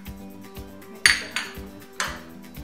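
Ground achaari masala spices are mixed in a metal bowl, with sharp clinks and knocks of a spoon against metal at an uneven rhythm, close and fairly loud against a quiet background.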